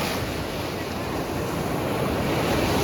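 Surf rolls in steadily on Vizag beach, a loud, unbroken roar of breaking waves close by, with some wind buffeting the microphone throughout.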